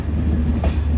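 A Humsafar Express train arriving at New Haflong railway station, a steady close rumble of rolling wagons over a short stretch with no voices.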